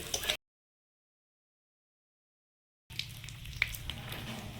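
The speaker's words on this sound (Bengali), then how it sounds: "বড়িটা ভেজে নেব।" Bori lentil dumplings frying in hot oil give a short burst of sizzle, then a long silent gap, then about two seconds of steady crackling sizzle over a low hum.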